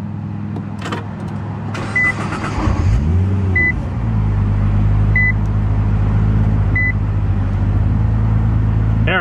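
A 2010 Nissan GT-R started by push-button ignition: several soft chimes ring out before the engine catches around four seconds in with a low roar that settles into a steady, close idle.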